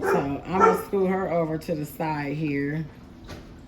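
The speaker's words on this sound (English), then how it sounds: "that's my dog barking at my son" A dog barks and yips repeatedly in short bursts indoors, fairly close, mixed in with someone talking over it.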